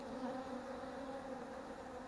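A dense swarm of bees drones steadily around a wild hive, a continuous layered buzz close by with no pauses and no voices.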